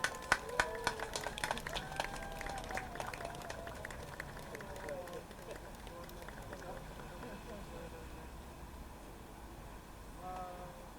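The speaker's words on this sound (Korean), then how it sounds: "큰 박수로 맞아주시기 바랍니다." Sharp clapping from an audience at an outdoor Catholic mass calling for cancellation of the Saemangeum new airport starts crisp and close. It then settles into a thinner, softer patter. A voice begins speaking near the end.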